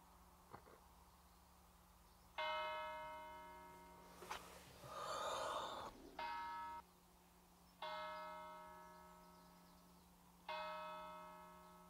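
A bell, likely an in-car chime, tolls in slow spaced strokes, each clear tone ringing out and decaying, about five strokes heard over a low hum with a brief breathy sound between.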